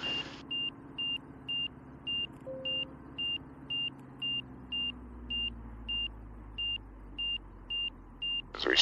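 A series of short, evenly spaced electronic beeps from an aircraft angle of attack indicator repeats steadily, about every half second, over a low engine hum and faint wind, as the plane slows for landing.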